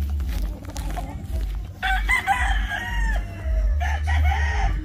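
Gamefowl roosters of Boston, Hatch and Gilmore lines crow at a game farm, two long calls rising over a steady low hum of farm background.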